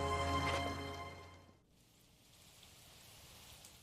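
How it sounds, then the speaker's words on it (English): Steady rain falls in the LA Noire video game, a soft continuous patter heard faintly; a humming musical tone fades out over the first half. "on occasion there are rainy days like this, and when it rains, it's usually very rainy"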